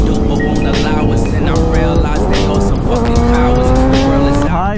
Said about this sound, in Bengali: তো চলো বাইক চালানোর মজাটা একটু আমরা নিয়ে এবার।